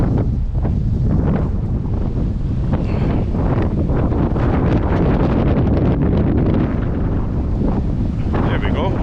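Strong wind gusts buffet the microphone on the River Spey in Scotland during February salmon fishing, a constant roaring rumble that swells and eases, with faint water and a voice briefly underneath.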